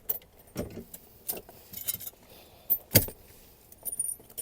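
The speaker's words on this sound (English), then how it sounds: "then install the extinguisher into the cage" An extinguisher is fitted into its mounting cage on an LDV T60, giving metallic clanks and rattles: a few scattered bumps and one sharp clunk near the middle, with light jangling toward the end, close and fairly quiet.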